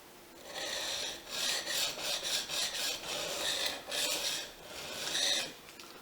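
A Fujimoto honesuki knife is stroked repeatedly across a Japanese waterstone, giving a close, steady wet rasp in uneven back-and-forth passes with no voices.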